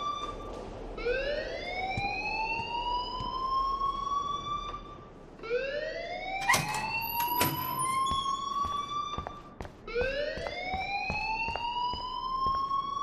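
A school alarm in Life Is Strange wails in three rising sweeps that repeat every few seconds, loud and close, with brief sharp noises in the middle.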